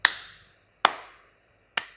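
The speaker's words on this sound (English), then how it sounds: "Slow clap." Three single hand claps land slowly and evenly, each sharp and close, with quiet gaps between them in a slow, sarcastic rhythm.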